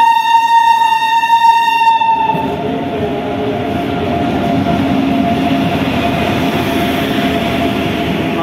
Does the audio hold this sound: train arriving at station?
yes